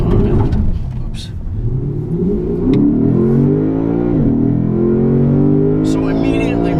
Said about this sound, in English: So immediately much more ferocious throttle response and sound from out back.